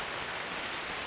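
Steady rain from the video game Dreamweb, a continuous even hiss with no distinct drops, moderately quiet and unbroken, with no voices.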